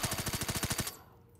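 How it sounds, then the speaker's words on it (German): Rapid automatic gunfire in Call of Duty Black Ops 3 custom zombies mode, a loud close burst of about fifteen evenly spaced shots lasting under a second, then stopping abruptly. "Ich kann die alle wegschießen."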